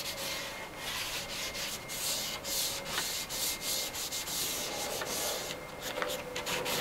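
Hand sanding with sticky-back sandpaper on an antique wooden gossip bench makes continuous close, gritty rubbing strokes in a steady back-and-forth rhythm.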